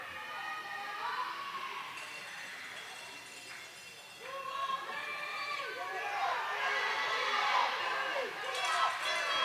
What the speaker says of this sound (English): There's Philly cheering for their team.